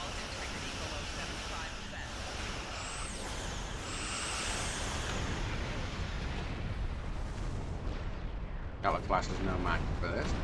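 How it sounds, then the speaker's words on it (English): Starship weapons fire and explosions rumble in a dense, booming barrage during a Star Trek Online battle, with sharp zaps and bursts over a constant low roar and a few louder blasts near the end. "Target and fire at will."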